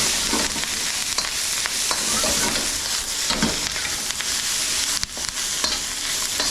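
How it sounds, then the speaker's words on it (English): Wood ear mushrooms, daylilies, leeks and ginger sizzle and crackle loudly in hot oil, with scraping stirs and occasional clatter from a utensil against the pan; no one speaks. "oil's hot again, ginger's sizzling, and we're going in with our woodears, daylilies,"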